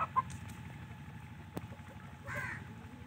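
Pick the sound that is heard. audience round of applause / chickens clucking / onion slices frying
chickens clucking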